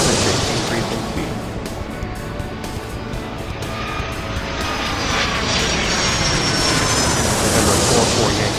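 Propeller airplane engine roars steadily as it takes off in the Airport Madness 3 airport game, a continuous loud drone that swells toward the end, with radio-style talk over it.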